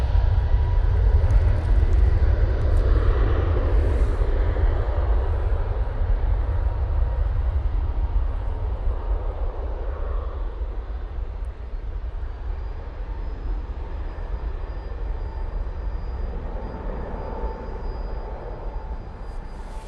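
An easyJet jet airliner's engines spool up for takeoff, a deep sustained rumble loudest at first and gradually fading, with faint whining tones drifting over it.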